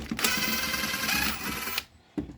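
An impact wrench loosens lug nuts on a mud mower's wheel in one loud, rapid hammering burst of about a second and a half, close up. A short clack follows after a pause.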